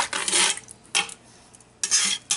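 Pot roast ingredients are mixed in a cooking pot with a utensil, giving three loud bursts of scraping and stirring separated by quieter pauses, close up with no talking.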